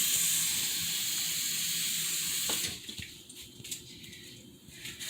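Tap water runs into a cooking pot being filled for ramen, a loud steady rushing hiss for the first half that then drops to a quieter, uneven trickle; no voices.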